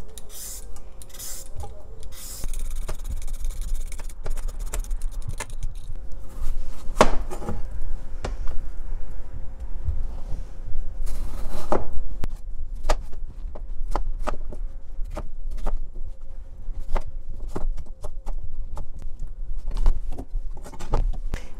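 A kitchen knife slices cucumber, tomato and onion on a cutting board for an attieke salad, with a run of irregular sharp taps and scraping rubs close by, punctuated by occasional louder knocks.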